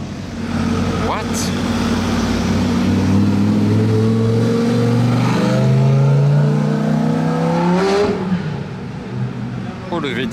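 A Lamborghini Gallardo V10 revs loudly and close by, its pitch climbing and falling in long sweeps, with a sharp blip near the end, while people talk over it.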